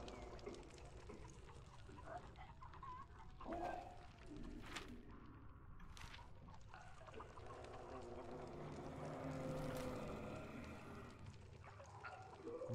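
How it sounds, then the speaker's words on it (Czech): Birds cooing and calling in the Hunt: Showdown game world, a soft pigeon- or dove-like coo with a few scattered chirps over quiet ambient noise, faint and somewhat distant. "Ptáci."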